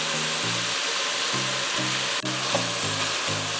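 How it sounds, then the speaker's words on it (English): Vegetables for Jamaican pumpkin carrot rice sizzle steadily in a hot pan, a loud continuous frying hiss, with rhythmic stirring scrapes and one sharp knock partway through, no voices. "After finish sauteing this"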